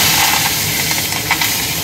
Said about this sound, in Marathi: आणि हिंग अशी झणझणीत फोडणी दिली